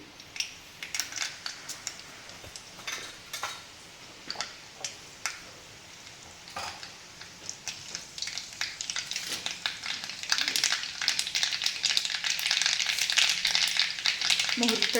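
Mustard seeds frying in hot oil in a pan for a Kolhapur-style potato dish, starting with scattered sharp pops and ticks that grow into a dense, loud crackling sizzle toward the end.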